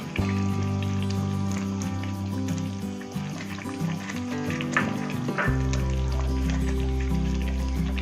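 Tinda pieces frying in hot oil in a pan, a loud, continuous crackling spatter with popping bursts over a steady low hum, running unbroken throughout without speech.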